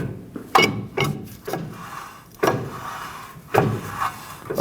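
A brake rotor sliding onto a 2011-2016 Ford F-350 over new parking brake shoes, giving a series of scraping, clunking metal contacts in uneven bursts, close by.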